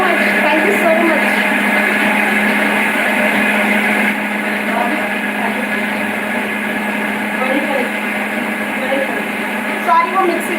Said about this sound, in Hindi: सॉरी, वो मिक्सी चल रहा है,